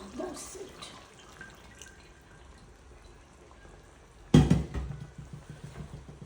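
Water splashes into a pan of prawn and spinach curry with a sudden loud burst, then settles into softer bubbling and dripping close by, after a quiet stretch of faint kitchen noise.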